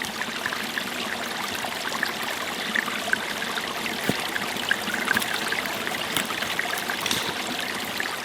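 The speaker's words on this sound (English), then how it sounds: "And then the creek continues this way" Spring-fed mountain creek on an off-grid homestead, water flowing in a steady, loud rushing babble that stays even throughout, with no voices.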